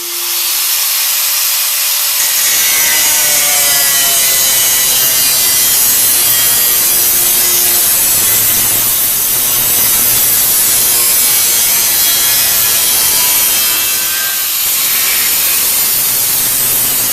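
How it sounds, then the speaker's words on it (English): Angle grinder fitted with a metal cutting wheel slicing through metal, a loud continuous high-pitched whine and scrape that holds steady for the whole stretch, close up with no talking. "So I've got my grinder, the metal cutting wheel on it, so I'm just going to go ahead and get on with it."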